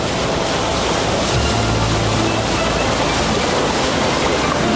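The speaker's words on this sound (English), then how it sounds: "The wild and turbulent water plunges into the depths below" Wild, turbulent water plunges over a waterfall in a wooded sacred valley, a loud continuous roar with broad, unbroken rushing noise and no clear voices.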